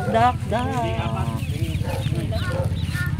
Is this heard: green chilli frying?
no